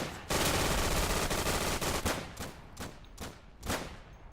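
Machine-gun fire in the World War II shooter Day of Infamy, a close sustained burst followed by a string of separate loud rapid shots.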